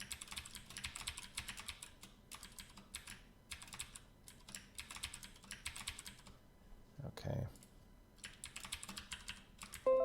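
Computer keyboard typing in bursts of rapid clicky keystrokes with short pauses, fairly close, while one person briefly speaks a word.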